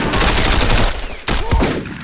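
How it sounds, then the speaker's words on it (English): Loud, close shotgun gunfire in a video game, a dense burst of blasts followed by a second report after a short gap, with no talking. "shotguns are a hell of a gun here."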